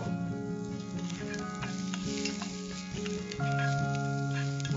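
Chopped onions fry in a pan for moong dal upma, a continuous sizzle with light stirring under steady background music.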